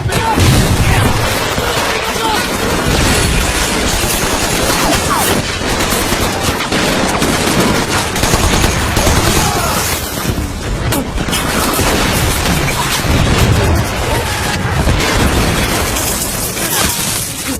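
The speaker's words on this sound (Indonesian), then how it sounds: "Mortar-mortar pun dihantamkan." Dense, continuous battle din from a World War II film, with mortar blasts, booming impacts and rattling gunfire layered together into a loud, unbroken roar that stays heavy throughout.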